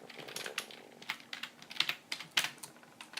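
Computer keyboard typing in quick, uneven bursts of sharp clicks, fairly close and alone, with no voices.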